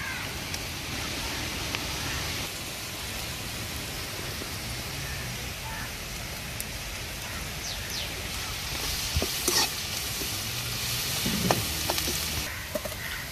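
Onions and green chilies frying in oil for a Kanagantha fish curry, giving a steady, dense sizzle that runs throughout with a few brief clinks of stirring near the end.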